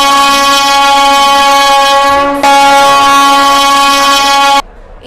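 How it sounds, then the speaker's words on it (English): An AC double-decker superfast express train arriving at a station platform sounds a long, loud, steady horn blast that holds for several seconds before cutting off abruptly, leaving quieter station ambience. "AC double-decker superfast express is arriving at platform number 2."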